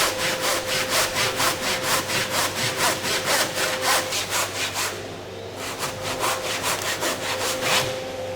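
A hand saw cuts a 45-degree angle through skirting board held in a mitre box, making steady rhythmic back-and-forth rasping strokes, close up, with a brief pause before the strokes resume.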